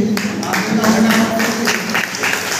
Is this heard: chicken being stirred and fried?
no